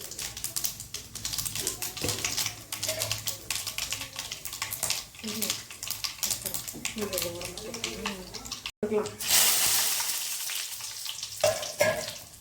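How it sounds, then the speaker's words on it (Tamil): Mustard seeds crackle and sputter in hot oil with dense, rapid popping and sizzling, while a voice talks intermittently over the frying. "எண்ணெய் நல்லா காஞ்ச உடனே கடுகு போட்டுக்கலாம்."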